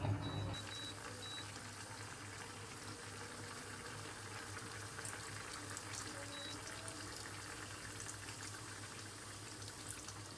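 Chicken adobo simmering with vinegar in a covered pot gives a faint, steady bubbling and hiss beneath a low constant hum, with no talking.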